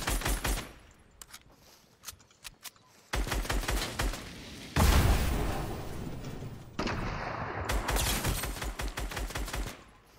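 Fortnite gunfire from a Gas Can Challenge match: loud, close bursts of rapid automatic shots, single cracks, and a heavy blast partway through, with sustained battle noise and no talking.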